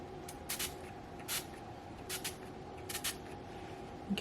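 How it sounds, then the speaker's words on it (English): Short hissing bursts of Urban Decay All Nighter setting spray, several quick pumps in uneven groups over a low steady background hum, close to the microphone. "We're going to use our Urban Decay All Nighter setting spray."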